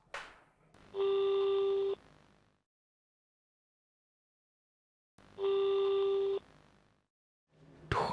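An outgoing phone call that goes unanswered: two long, steady ringback tones, each about a second, separated by several seconds of silence, with no pickup.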